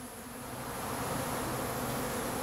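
A swarm of honey bees buzzes at a Flow Hive during a honey harvest, a dense, steady drone that stays close and even throughout with no voices.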